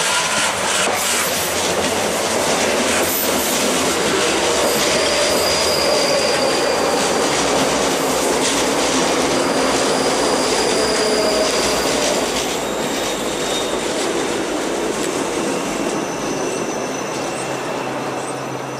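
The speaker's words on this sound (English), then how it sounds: "straight after we have another 334 going from Edinburgh Waverley to Helensburgh Central." A Class 334 electric multiple unit passing on a Scottish line at Craigendoran, bound from Edinburgh Waverley to Helensburgh Central: loud, steady rolling rumble with wheel squeal and faint clickety-clack, sustained close by throughout.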